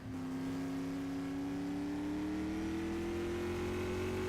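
Race car on its warm-up lap at a time-trial event: a steady, sustained engine drone at constant distance, pitch rising very slightly as it runs, with no voices over it.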